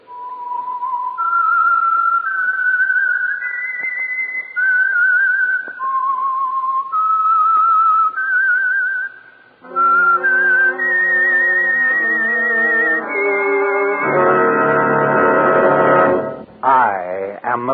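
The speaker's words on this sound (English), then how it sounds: "That whistle is your signal for the Signal Oil Program" A whistled theme tune from The Whistler radio program, a clear solo melody of sustained, sliding notes that later turns into a fuller orchestral swell, loud and close.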